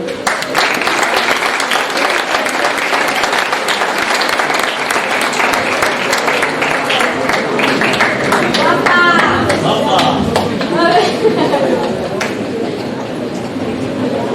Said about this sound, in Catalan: Un fort aplaudiment per a Carme Ávila